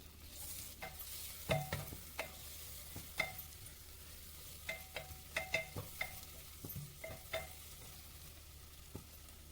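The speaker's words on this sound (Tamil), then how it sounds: "அதோட 2 தக்காளி பழம் நறுக்கி வச்சதையும் சேர்த்து நல்லா வதக்கி விட்டுக்கோங்க." Chopped tomatoes sauté in a pan for prawn biryani, a soft, constant sizzle broken by repeated sharp scrapes and taps of a spoon stirring against the pan, quiet and close.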